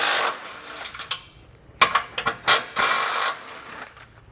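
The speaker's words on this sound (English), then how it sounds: "I'm going to take a 15mm socket and pull those out" A 15mm socket wrench removing bumper beam bolts on a 2014 Buick Enclave, heard as close metallic ratcheting clicks in short clusters separated by brief pauses.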